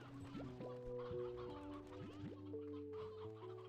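Chickens in the video game Slime Rancher 2 cluck and murmur in overlapping calls, a small flock heard close but quietly, with rising and falling clucks and no talking.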